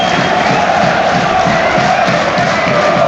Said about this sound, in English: Bournemouth fans on their feet. They're cheering themselves over the line to big 3 Premier League points